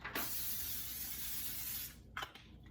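A close, steady hiss of cooking spray into a pan lasting about two seconds, followed by a couple of short spritzes.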